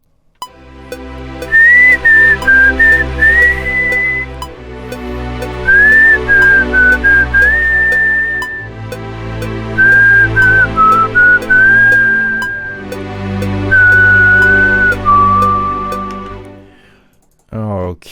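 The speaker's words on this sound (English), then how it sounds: "Let's try a whistle." A person whistles a slow, wavering melody in four long phrases, close and clear, with pauses between them.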